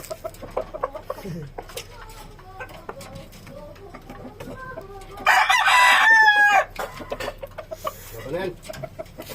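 A Talisayen gamecock gives one loud, close crow lasting over a second, set among clucks and scattered farmyard noise with people talking nearby.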